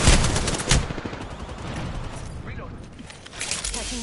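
A weapon reloads in the video game Apex Legends with short mechanical clicks and clatter amid a dense wash of gunfire and game noise, loud and close, with a voice speaking over it.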